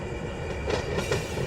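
A train rolls past in the Run 8 train simulator game, giving a steady rumble with faint wheel squeal and clatter that swell slightly toward the end.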